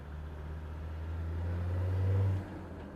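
A car fitted with an upgraded brake servo drives along as a low engine and road hum, swelling slightly before easing off as it slows to a stop, with no talking.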